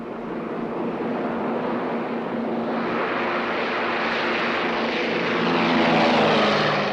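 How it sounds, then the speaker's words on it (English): A propeller airplane departs in a 1949 film scene, its engine drone steady and loud throughout, swelling slightly toward the end as it pulls away. "There's my plane."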